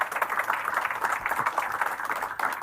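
Moderate, steady clapping from a conference audience greets a panel at the Tallinn Digital Summit, a continuous patter of many hands heard from the middle of the room without talk.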